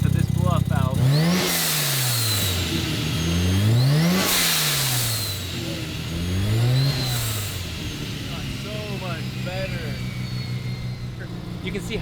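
A restored Mazda RX-7 FC street car's rotary engine revs up three times in quick sweeping pulls, each followed by the hiss of a Turbosmart blow-off valve venting, then settles to a lumpy idle; a voice talks briefly underneath.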